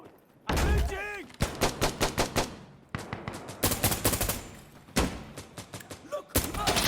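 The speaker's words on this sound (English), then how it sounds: "I'm shooting." Rapid bursts of gunfire from the video game Insurgency: Sandstorm, with sharp, close shots in quick automatic runs and pauses between bursts, and a voice talking over them.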